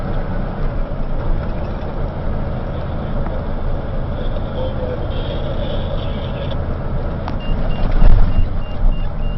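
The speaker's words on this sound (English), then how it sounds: "Trucks continually coming up and down," Heavy water trucks rumble steadily along a dirt mine haul road, a dense continuous engine and tire drone with a faint high reversing-beep tone partway through and a louder bump near the end.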